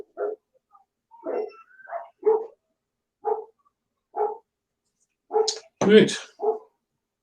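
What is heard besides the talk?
dog barking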